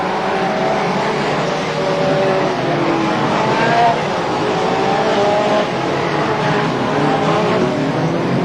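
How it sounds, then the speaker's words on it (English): BriSCA Formula 2 stock cars race at Crewe, a pack of engines roaring steadily with rising and falling revs and occasional tire squeal, loud and continuous without a break. "Green flag down, racing in the Formula 2 National"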